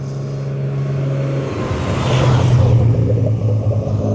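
A close, loud drift car engine drones and revs up at a drift event, its pitch rising and wavering as it climbs, with no talking.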